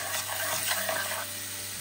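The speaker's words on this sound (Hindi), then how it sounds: "इन सबको आप अच्छे से मिक्स कर दें" Spices, chaat masala and lemon juice are stirred together in a bowl for a roasted makhana snack, giving a steady soft scraping, swishing sound up close with no voices.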